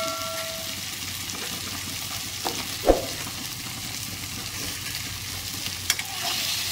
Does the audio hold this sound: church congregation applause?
no